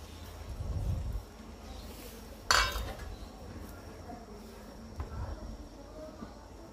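Utensil scraping and clinking in a pan while stirring a cooking fish curry with its lid lifted, a few irregular metallic touches with one sharp clink, over quiet kitchen background.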